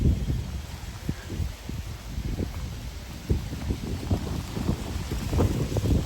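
Strong wind on Samal Island buffets the microphone in a steady, gusty low roar with louder surges throughout, and no voices are heard.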